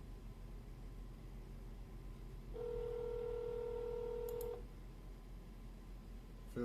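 A telephone ring tone sounds over faint background hiss, a single steady electronic tone lasting about two seconds before cutting off, with a brief click near the end and no voices.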